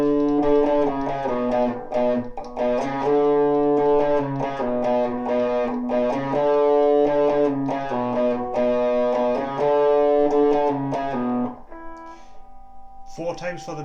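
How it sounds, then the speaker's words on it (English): A distorted electric guitar, run through a distortion pedal pushed toward feedback, plays a repeating riff in sustained, buzzing chords that ring on, then drop to a quieter, thinner tone near the end. "I'm using a distortion here to keep trying to feed back"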